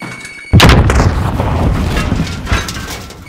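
A frag grenade detonates in Call of Duty: Modern Warfare, a sudden loud blast that slams in after a quiet half-second and leaves a long rumbling, crackling tail of debris and echo.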